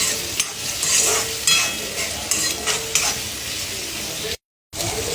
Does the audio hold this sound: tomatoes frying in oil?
yes